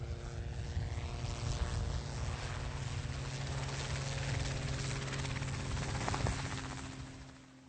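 Robinson R22 helicopter in a practice autorotation glide, a steady close rotor and engine drone with rhythmic blade chop running throughout and fading slightly at the end.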